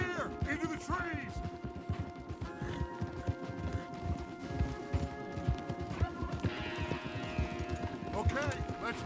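Horses' hooves clip-clop in a steady trotting rhythm on a trail in the video game Red Dead Redemption 2, continuous and fairly close, mixed with other game sounds.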